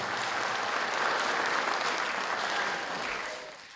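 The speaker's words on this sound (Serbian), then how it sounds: "Molim vas jedan aplauz za sve ljude koji su učinili da biblioteka bude danas ono što jeste" An audience at the centenary ceremony of the National Library Dositej Obradović in Novi Pazar gives dense, sustained applause that fills the hall and then tapers off toward the end.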